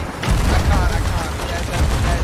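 Cannon fire booms and crackles as dense, overlapping blasts during a naval battle between ships in a video game, running continuously with no talk.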